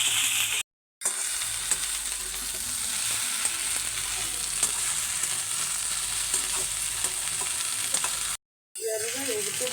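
Okra for a Punjabi-style masala curry frying in a pan, a loud continuous crackling sizzle that runs nearly unbroken for several seconds, with two brief silent gaps.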